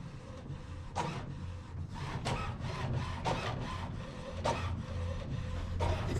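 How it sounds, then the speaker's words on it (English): A printer runs continuously printing a test page, its mechanism whirring and grinding with periodic louder clunks and rasps as the page feeds through. "It appears to be printing a test page."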